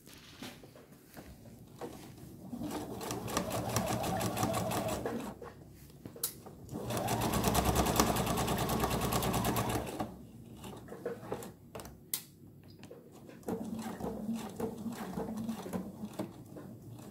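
A sewing machine stitches a fabric mask in two long, steady, fast-buzzing runs, followed by a shorter one, with quiet pauses and handling between them.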